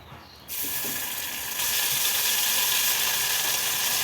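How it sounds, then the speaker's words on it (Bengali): Green pea and garlic paste hits hot oil in a wok and bursts into a loud, steady sizzle that starts abruptly after half a second and grows fuller, hissing continuously without talk. "কড়াই বসিয়ে দিয়েছি আর কড়াই দিয়ে দিয়েছি তেল আর এই যে পেস্টটা দিয়ে দেবো"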